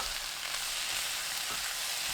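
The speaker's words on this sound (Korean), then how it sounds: "팽이버섯 넣고 센 불로 40초 볶아주세요." Enoki mushrooms stir-frying over high heat with garlic and salted shrimp, a steady, fairly quiet hissing sizzle with faint stirring, continuous with no talk.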